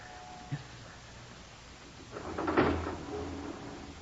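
A lift door slides and bangs as a radio drama sound effect: a small knock early on, then a louder rolling, rattling slide that fades into a soft hum. The sound is fairly faint and no one speaks.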